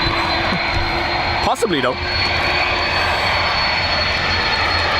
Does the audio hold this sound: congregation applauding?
no